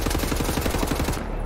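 Turret gunfire in Wolfenstein: The New Order on Gibraltar Bridge, a fast, steady stream of loud automatic shots pounding close by, stopping just before the end.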